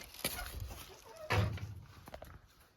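A rooster's flurry: a sharp thump of wings or landing near the middle, with a few brief clucks and scuffles around it, close by and moderately loud.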